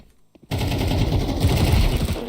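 MP7 submachine gun firing in Counter-Strike 2, a sustained loud burst that starts abruptly after a moment of near-quiet and keeps rattling continuously to the end.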